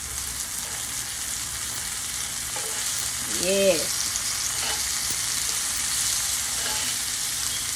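Salmon fillets sizzling in a cast iron skillet, a steady bright frying hiss that runs throughout, with a short spoken word partway through.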